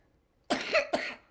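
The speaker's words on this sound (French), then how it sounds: "ça va faire tousser" A single close cough in two quick bursts, short and fairly loud against a quiet background.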